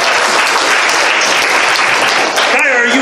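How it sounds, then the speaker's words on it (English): A crowd at an open mic event in Ohio applauds a performer with dense, loud, continuous clapping and some cheering close by, and a voice comes in near the end. "give a round of applause for Kyle"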